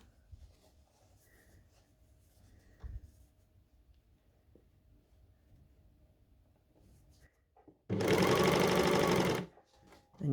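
A serger overlocker stitches and trims T-shirt fabric in one loud, fast burst of about a second and a half after quiet handling noises.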